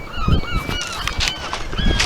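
Gulls calling on a beach, a run of high, wavering squawks and cries repeating close by over steady outdoor wind and surf noise, with no talking.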